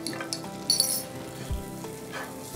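Garlic sautéing briefly in a pan with peppercorns and a bay leaf, a soft close sizzle with a few light clinks and taps of a utensil.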